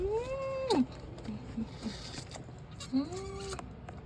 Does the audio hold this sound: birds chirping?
no